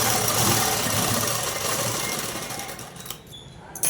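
A sewing machine runs close up in a rapid, steady chatter, stitching a double seam on a boat-neck long frock, then slows and stops near the end.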